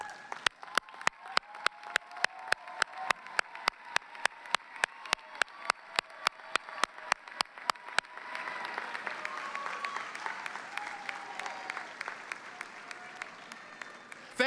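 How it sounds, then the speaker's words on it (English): Applause at a university commencement ceremony, loud distinct claps from someone nearby in a steady rhythm over a softer crowd, then the close claps stop and the broader audience applause carries on. "give them a round of applause in appreciation"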